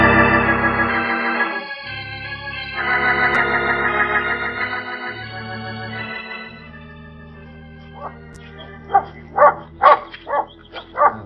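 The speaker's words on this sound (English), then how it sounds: "Well, the dog makes a lot of noise" A dog barks several times in quick bursts near the end, following a stretch of steady tonal droning sound, fairly loud and close.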